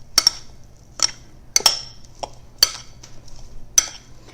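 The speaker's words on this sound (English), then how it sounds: "And then we're going to stir this all up." Chicken seasoned with salt and pepper is stirred in a bowl, a utensil striking the sides in about half a dozen sharp, irregular clinks close by, with quiet pauses between.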